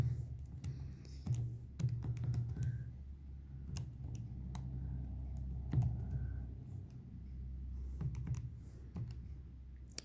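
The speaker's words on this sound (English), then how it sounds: "if you try and type this into your calculator" Keys tapped on a calculator produce a string of soft, irregular clicks close by, over quiet room tone.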